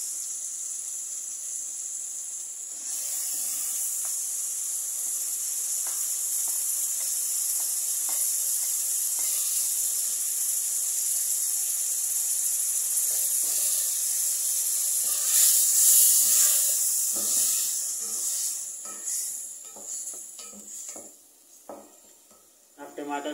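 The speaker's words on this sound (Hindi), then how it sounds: "टमाटर को भी 3 से 4 मिनट के लिए भूनेंगे।" Tomatoes frying in hot oil with ginger, garlic and onion for minced meat with fenugreek, a steady bright sizzle with occasional stirring scrapes, while a voice talks over it.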